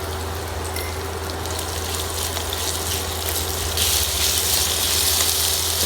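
Thinly sliced onions with a little salt frying inside a rice cooker, giving a steady, close sizzling hiss that runs unbroken and swells a bit louder near the end, with no voices.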